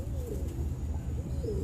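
Golden and teddy pigeons coo close by in a low, continuous throaty rumble, with a couple of rising call notes over it and no talking.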